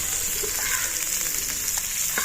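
Ghee sizzles and fries in a clay cooking pot, a steady close crackle with a few sharper pops and stirring scrapes, with no talking.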